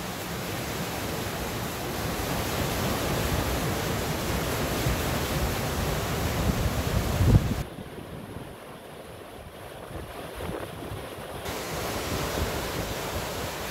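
Water rushing steadily through a small hydropower plant in Herzberg am Harz, a loud broadband roar that dips briefly midway before building back, with no voices.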